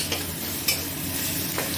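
Taro leaves fry in a wok with a continuous soft sizzle, broken by a few sharp scraping stirs of a spatula against the metal, all close with no talk.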